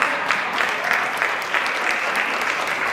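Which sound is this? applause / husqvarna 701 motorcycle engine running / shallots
applause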